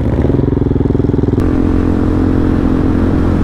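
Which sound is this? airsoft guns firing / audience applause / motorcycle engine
motorcycle engine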